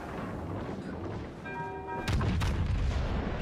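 Naval guns fire in the World of Warships: Legends video game: a tonal hum, then a heavy booming salvo and a second thud over a dense, loud rumbling battle background.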